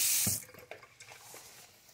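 Water runs from a hotel room sink tap, a short bright splashing burst at the start that quickly fades to a faint trickle and drip.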